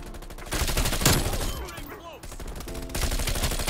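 Rapid automatic gunfire from a Mastercraft weapon in Call of Duty Cold War, dense bursts of close, loud shots with a brief lull in the middle before firing resumes.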